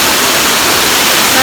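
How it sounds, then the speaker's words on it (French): A waterfall in a canyon in China pours with a loud, steady rushing roar close by, a dense, unbroken wash of water noise with no clear voices over it. "La jolie cascade qu'on a nagé là derrière là."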